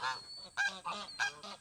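Several geese honk loudly at a farm pond, a quick run of harsh, nasal calls in short bursts close by, with no speech.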